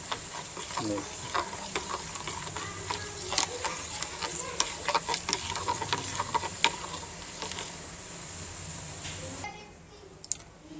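Jaggery tea mixture stirred in a pan, a steady run of quick scraping and clicking strokes over a sizzling hiss, close and moderately loud, ending in a softer bubbling simmer.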